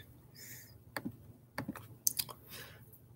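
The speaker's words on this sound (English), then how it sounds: "he's probably typing a lot" Scattered keyboard clicks and taps, a few sharper keystrokes in irregular bursts, fairly quiet with no voices.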